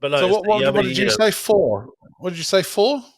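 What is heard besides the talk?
No everyday noise stands out behind the speech.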